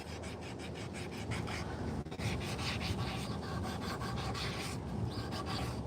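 Steady abrasive rubbing of sandpaper on a handmade wooden spoon carved from found wood, a continuous close rasping with repeated back-and-forth strokes and one brief pause.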